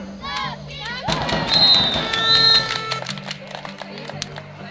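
Crowd cheering and applauding firefighters at a junior national championship event in Poland, a burst of shouts, whistles and clapping rising after a loud announcer's voice, swelling then tapering off.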